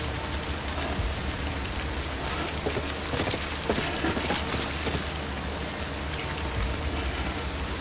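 Steady rain pours down in the video game Death Stranding, a dense, continuous hiss of drops on surfaces with little variation throughout.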